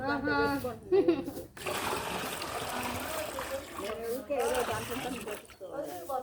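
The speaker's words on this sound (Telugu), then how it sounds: "బాగా ఎక్కువ నీళ్ళు పోసి జాడిచ్చు బాగుంటాయి" Clothes are washed by hand with water poured over them and beaten, heard as splashing, sloshing and trickling water mixed with thuds. A person talks over it throughout.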